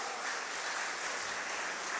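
Applause from an audience at a Tamil political rally for an independent MLA, a steady wash of clapping heard faintly and evenly throughout, with no talk.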